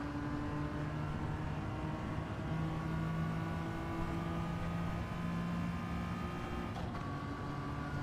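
Car engine in a racing video game, a sustained droning rev that holds steady with shifting pitch throughout, loud and continuous with no voices.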